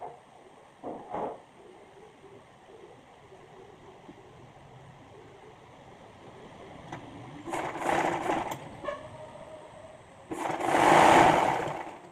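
A sewing machine stitches a bias strip around the edge of a baby frock, running quietly at first, then in two louder bursts near the end, with soft handling noises between.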